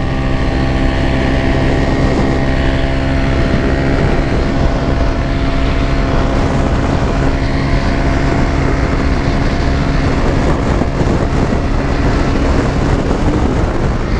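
Yamaha FZ 15 motorcycle cruising in fifth gear, a loud, steady engine drone mixed with rushing wind noise, continuous and close throughout.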